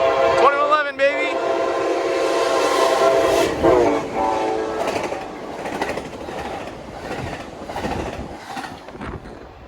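Amtrak train 2111 rushes past at speed at Carlsbad Village, opening with a loud horn blast, then a close roaring pass of rolling wheels and rail clatter that gradually fades, while someone talks excitedly over it.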